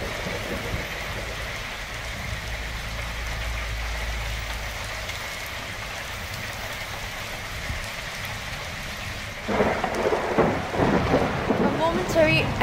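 A thunderstorm with steady rain fills the scene, deep rumbles of thunder rolling low beneath a constant hiss of falling water, with a louder, harsher burst of rain and thunder near the end.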